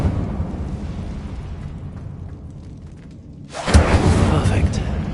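In Hogwarts Legacy, the Incendio fire spell bursts out suddenly as a loud whooshing roar of flame that rises over a quieter ambient rumble and keeps going to the end.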